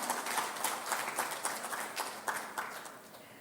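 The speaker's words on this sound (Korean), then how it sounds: "큰 박수 부탁드립니다." Fairly faint applause from an audience at a ceremony marking the day of separated families, with scattered distinct claps running steadily throughout.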